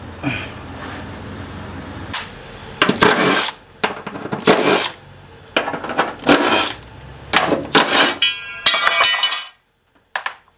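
A 13 mm tool working an exhaust clamp loose on a Mk7 GTI during a downpipe install, with bursts of loud ratcheting and metallic clinks separated by brief pauses, close and clear.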